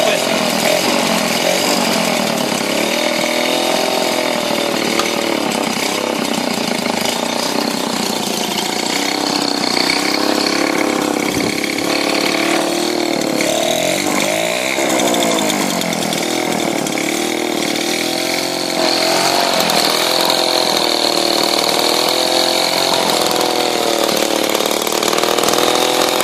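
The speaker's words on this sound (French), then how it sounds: "Pas de starter. Moteur refait à neuf presque." A rebuilt Peugeot 103 moped engine runs without choke, a loud, close two-stroke buzz that holds steady with small revving wobbles throughout.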